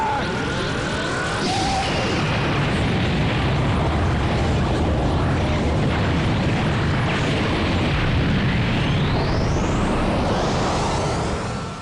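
A roaring, sustained Big Bang Attack ki blast explosion thunders without break, dense and loud throughout, with whooshing sweeps rising near the start and toward the end.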